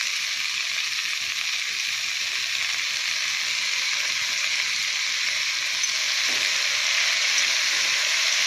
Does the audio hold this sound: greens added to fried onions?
yes